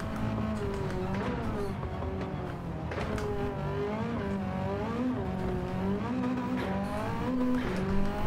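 A race car engine in Gran Turismo 7 heard from the in-car view on a rally-style dirt stage, revving up and down through gear shifts in a loud, steady drone, with tyres scrabbling beneath and no voices.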